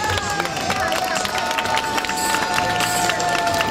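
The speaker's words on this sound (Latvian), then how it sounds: "mēs sagaidām ar aplausiem pirmos dalībniekus" Outdoors in a castle courtyard, a crowd claps and cheers as a folk ensemble arrives, with loud mixed applause, voices and bustle overlapping continuously, high tonal accents ringing through the din.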